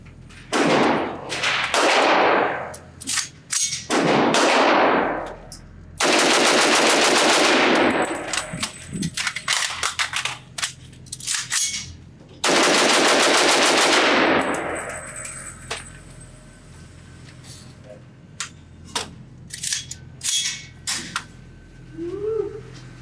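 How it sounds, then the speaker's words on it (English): Rapid gunfire from a CMMG Resolute, an AR-15/AK hybrid rifle, at an outdoor range: several loud bursts of fast shots, broken by pauses for a magazine change, then scattered single shots and faint clatter near the end. "Let me see how fast I can shoot this thing, change out the magazine, and get it back in action."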